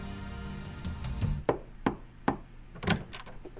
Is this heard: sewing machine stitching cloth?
no